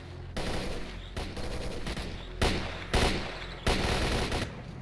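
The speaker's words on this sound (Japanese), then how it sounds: "なんかなかなかいい銃声の武器を。" Rapid bursts of gunfire in S.T.A.L.K.E.R.: Clear Sky crackle in quick succession, with several sharper, louder shots punctuating the sustained firing.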